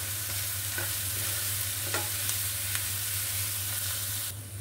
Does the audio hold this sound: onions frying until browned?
yes